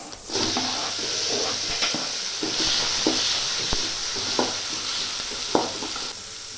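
Steady loud sizzling of tomatoes frying in a pan with onion, continuous throughout, with scattered clicks and scrapes of stirring and a soft crackle beneath.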